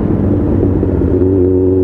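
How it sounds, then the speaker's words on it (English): A Yamaha XJR 1300 motorcycle engine drones loud and close on a road ride, a steady deep rumble that settles into a slightly higher, even tone near the end, with no talk. "Now that is a rev bomb."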